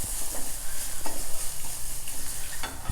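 Browned dals and freshly grated coconut are tossed in a hot pan, giving a steady close sizzle with rhythmic scraping and rustling from the stirring, with no talk.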